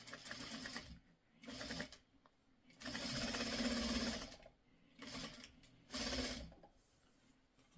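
A sewing machine stitching pre-cut quilt fabric runs in several short bursts of steady whirring stitches, close and clear, separated by brief pauses.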